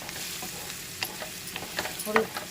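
Oil frying in a pan while making a broad bean and tomato curry, a steady close sizzle with stirring scrapes and a few louder crackles near the end.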